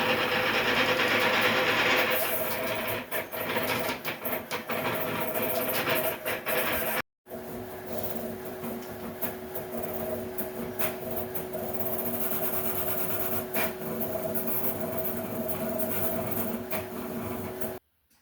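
A custom cross-gantry 3D printer with hollow rods and badly fitting bearings rattles loudly while it runs. The mechanical clatter and whirring is continuous and close, with a steady motor hum and a brief break partway through.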